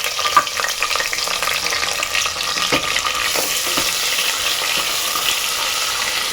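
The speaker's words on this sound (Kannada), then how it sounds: "ಈರುಳ್ಳಿ ಚೆನ್ನಾಗಿ ಹುರ್ಕೊಳ್ಳೋಣ" Finely chopped onion fries in hot oil as tempering for soya chunks pulao, giving a loud, continuous close-up sizzle with occasional stirring scrapes.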